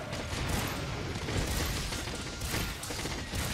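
Rapid gunfire from a hunter's weapon pounding a monster in Monster Hunter World: Iceborne, a dense, steady mechanical clatter of shots running throughout, moderately loud and uninterrupted.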